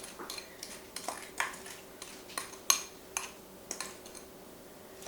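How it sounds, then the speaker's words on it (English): A utensil clinks irregularly against a bowl, quiet and close, while beaten eggs are mixed with oil and sugar for cinnamon, apple and pecan muffin batter. "Mix that in with your oil and sugar."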